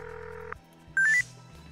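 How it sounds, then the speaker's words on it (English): A phone call in the video game Buried Stars rings over ambient game music, a short electronic tone burst followed by a brief chiming pattern. "phone Jiyoung if we can"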